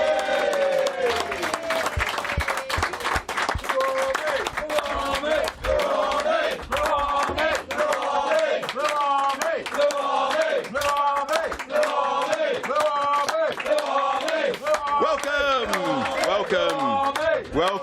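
A capacity studio audience at a televised football talk show roars, whoops and chants in a loud, sustained wave of cheering and applause, with voices rising and falling through the din.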